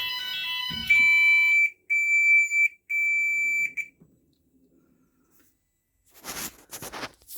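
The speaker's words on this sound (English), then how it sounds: "This is a fire alarm." A GENT Vigilon fire alarm system sounds during a test: a steady electronic tone that breaks into several pulsed bursts, then drops to near silence before a short stretch of noisy rustling.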